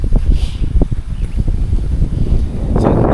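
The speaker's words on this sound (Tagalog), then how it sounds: "Lakas ng hangin eh." Strong wind buffeting a microphone beside a river during a fishing trip, a loud continuous rumble with gusty low-frequency thumps and no talking over it.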